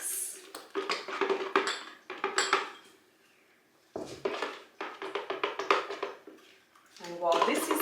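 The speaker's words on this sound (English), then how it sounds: "And give it a good mix." Homemade goat's yoghurt is stirred in a bowl, with rapid clinking and scraping of a utensil against the dish in bursts, close and clear, pausing briefly midway.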